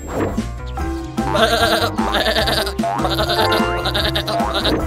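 A sheep bleats repeatedly, loud and close, over a busy musical backing with no talking.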